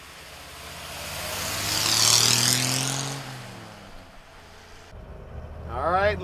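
A 1953 Ford F100 pickup truck's engine runs and swells past at close range, rising to a loud peak and then fading, with speech toward the end.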